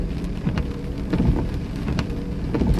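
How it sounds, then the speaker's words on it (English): Steady rain falls during an ice storm in Iowa, a continuous close patter with soft scattered drops and low rumble throughout, no voices. "Once that rain stops, I'll call it good for the night"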